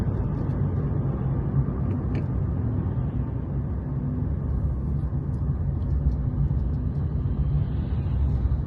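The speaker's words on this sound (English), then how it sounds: "Now the car's warming up nicely now." Car engine warming up during a drive around Blackpool, a low continuous rumble heard from inside the cabin, steady and fairly loud throughout.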